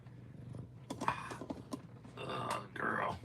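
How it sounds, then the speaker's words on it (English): Soft, low rumbling cat purr, quiet and close, while a person talks over it. "Say hi to my cat, Midnight."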